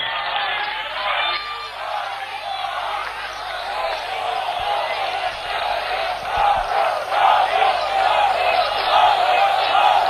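A crowd applauds and cheers at a BJP party headquarters rally after the Haryana assembly election, a loud dense roar of clapping, shouts and whoops that swells toward the end, with voices mixed in.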